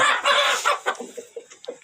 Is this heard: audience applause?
no